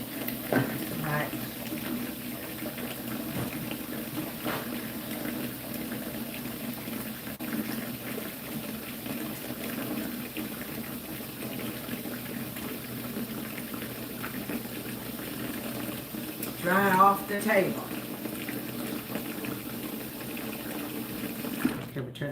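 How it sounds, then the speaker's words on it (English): A kitchen tap runs steadily throughout during a live cooking session, a continuous moderate hiss of flowing water under occasional brief talk. "Okay, we turn this water off."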